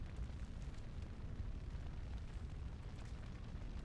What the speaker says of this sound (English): That is actual fire.